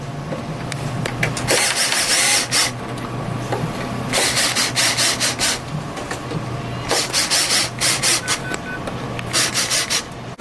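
Small screws are snugged up by hand on an AJCMods RC car parachute kit, with repeated bursts of close scraping, rubbing tool-on-screw sounds alternating with brief pauses over low background hum.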